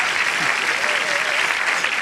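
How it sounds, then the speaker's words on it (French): Audience clapping loudly and steadily for a guest speaker at a live stage event, a dense, even roar of applause with a faint voice briefly audible beneath it. "qu'on peut applaudir bien fort"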